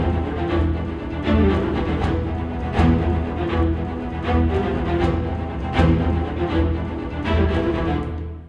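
Sampled orchestral viola staccatos from a beginner-friendly all-in-one library, playing a dense, steady run of short, soft-edged bowed notes with a warm low body and regular accents.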